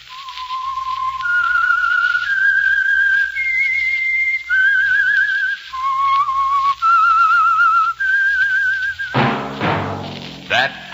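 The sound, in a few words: The Whistler radio show theme whistle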